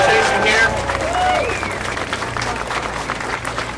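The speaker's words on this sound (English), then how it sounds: "please give Shara a big round of applause and the organization here." Audience applause at a gathering calling for gun safety legislation: dense, steady clapping from a crowd that fills the whole stretch and slowly eases off toward the end.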